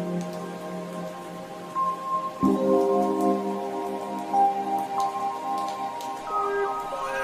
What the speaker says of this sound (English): Like how you added those raindrop effects right here, man.